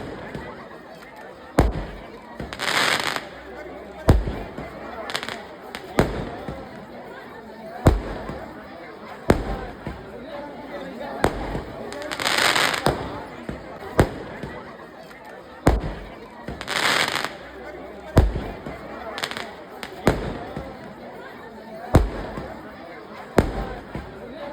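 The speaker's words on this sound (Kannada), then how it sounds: "ಪಟಾಕಿ ಸರಮಾಲೆನೇ ಊರೊಳಗೆ ಹಚ್ಚಿದ್ರು ಕೂಡ ಆ ಸಂಭ್ರಮನ ಆಚರಿಸಿದ್ರು." A firecracker string bursts at a village temple fair with loud, irregular bangs and crackling volleys repeating across the whole stretch, some close and punchy. Voices and festive commotion run underneath.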